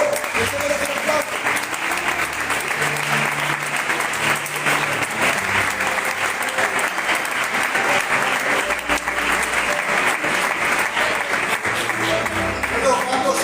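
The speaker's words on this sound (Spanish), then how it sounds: "Seguimos aplaudiendo a Dios," A church congregation applauds continuously for over thirteen seconds, a loud, dense wash of clapping with voices and some low musical tones mixed underneath.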